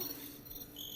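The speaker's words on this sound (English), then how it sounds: "Crickets." Crickets chirp in a steady, continuous high trill, even and unbroken throughout, with no other sounds.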